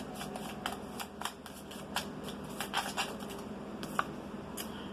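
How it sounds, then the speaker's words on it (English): Tarot cards being shuffled and pulled, a quick run of soft riffling flicks and papery snaps up close, irregular in rhythm and quiet, with no voices. "We're just going to pull some cards for this reading."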